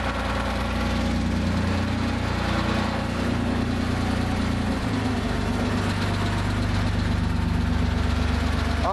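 Porsche engine idling during a 15K service while the idle balance is checked, a steady close rumble whose pitch and tone shift midway through as the engine settles, with no talking.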